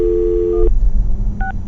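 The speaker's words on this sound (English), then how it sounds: "I'm gonna dial this phone number right now, see if we can get her on the phone" A telephone line sounding after a number is dialed: a steady electronic tone that cuts off abruptly, a short clattering pause, then a brief higher two-pitch beep, loud and close, with no voices.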